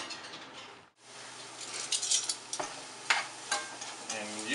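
Vegetables, peppers among them, sizzle and crackle in a hot pan for a beef stir fry, a steady frying hiss broken by bursts of louder spitting and a few clinks of a utensil against the pan.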